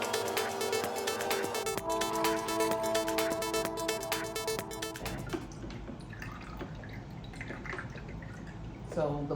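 Fresh orange juice runs through a pulp-catching strainer in a steady close trickle that thins into softer scattered drips, with a voice faintly underneath.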